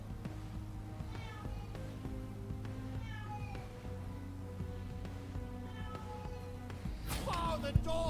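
A cat meows repeatedly over a steady background hum, the calls fairly close and rising into a louder, sharper burst near the end.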